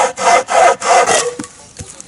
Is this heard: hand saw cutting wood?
yes